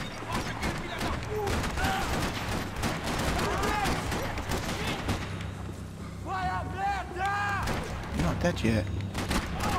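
Video game gunfire from Max Payne 3, with loud, dense volleys of shots and explosive bursts running throughout amid chaotic game effects, while a player talks briefly over the action.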